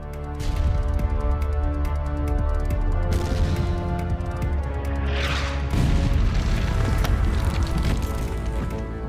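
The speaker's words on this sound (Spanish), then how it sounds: "Los artilleros intensifican el bombardeo sobre las zonas ya debilitadas de la fortaleza." Heavy, continuous rumbling booms and crashes of a cannon bombardment on the fortress of Rhodes in 1522 roll on with no pause, a dense wall of distant explosive thuds.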